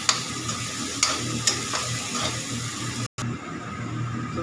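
Chopped onions simmer and fry in a pan for a mushroom, fenugreek and pea dish, a soft steady sizzle with a few light taps of a utensil and a brief dropout, no voices.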